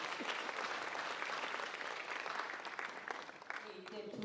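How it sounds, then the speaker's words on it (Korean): Warm applause from a forum audience at a village education community gathering, steady dense clapping that thins near the end, with a voice coming in over it. "발표해 주신 이동성 교수님께 다시 한번 뜨거운 박수 부탁드립니다"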